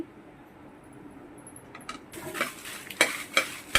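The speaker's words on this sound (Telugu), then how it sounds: "ఇప్పుడు ఎండుమిరపకాయలు వేయించుకుందాం మిరపకాయలు బాగా వేగాలి" Dried red chillies fry in a pan for a chutney powder, first as a quiet hiss, then with louder scraping stirs and metal clinks of a spoon against the pan toward the end.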